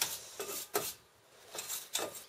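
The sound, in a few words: wire brush scrubbing Renault Clio 2 brake parts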